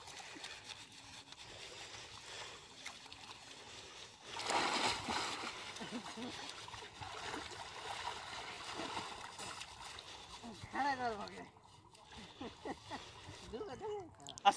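Water splashing and sloshing as people bathe and swim in the Ganges river, a steady wet churn with louder bursts, with voices talking and calling out over it throughout.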